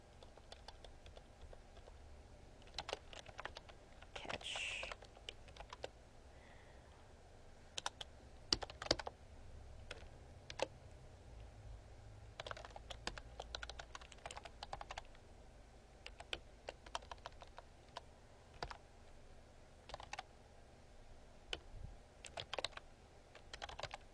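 Fingers type on a computer keyboard while coding, producing irregular bursts of close, crisp key clicks with short pauses between flurries, in a quiet room with no talking.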